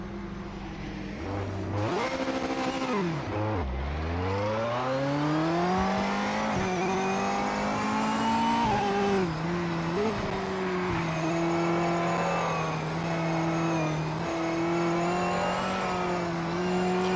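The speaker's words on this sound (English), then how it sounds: "Let's wait for these cars to come past." Race cars in Project Motor Racing, played on PS5, roaring past one after another, engines revving and shifting pitch as they approach and recede, loud and continuous.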